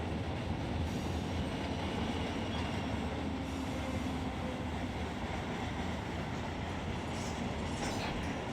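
A KCS freight train rolls past in the Run8 train simulator, a dense continuous rumble of wagons and wheels with faint high squeals, loud and steady without voices.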